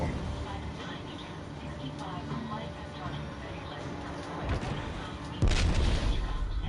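A PS4 shooter game fills the scene with rumbling gunfire and a steady, noisy wash under a player talking, ending in a sudden louder burst of shots.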